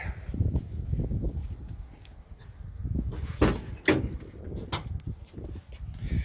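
A locksmith work van's rear doors are opened, with a few clunks and latch knocks standing out over low rumbling handling noise.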